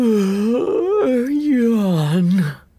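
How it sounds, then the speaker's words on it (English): A cartoon character in a children's English classroom lesson lets out a long, drawn-out voiced yawn, close and loud, rising and falling for over two seconds before trailing off. "Yawn."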